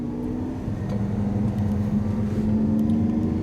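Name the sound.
Lamborghini Aventador racing Ferrari F12 from rolling start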